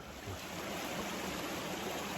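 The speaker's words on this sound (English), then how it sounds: "I think this is the creek that the bridge was out over." Brown Mountain Creek flows as a steady, even rush of water along a forest road, faint and continuous with no voices.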